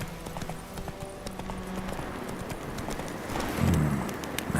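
Roach the horse gallops in The Witcher 3, a rapid rhythmic clip-clop of hooves close by, with game ambience around it and a louder thud of movement near the end.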